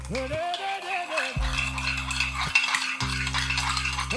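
Dough of yeast, oil, sugar and water is mixed in a bowl, with a utensil clinking and scraping repeatedly at close range over steady background music.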